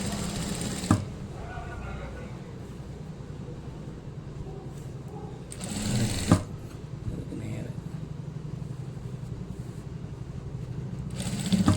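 A sewing machine stitches a garment pocket with a steady, close whirring hum and fine rapid ticking that runs almost without a break, punctuated by a few mechanical clunks.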